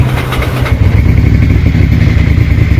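A Ducati Monster 650 motorcycle engine turns over and catches, settling into a loud, close, steady, throbbing idle with a lumpy rhythm and no voices.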